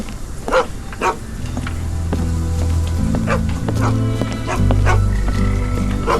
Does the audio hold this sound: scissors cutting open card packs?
no